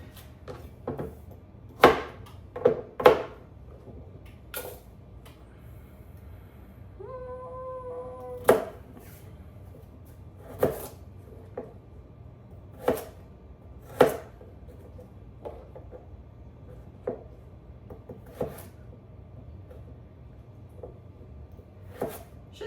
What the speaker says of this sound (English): I am chopping and storing in water.